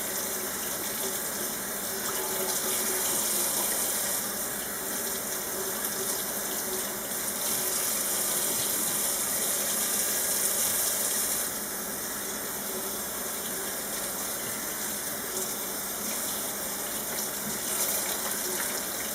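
A tap runs steadily into a sink, a continuous hissing gush of water that holds for a long stretch with faint shifts as dyed fabric is rinsed under the stream.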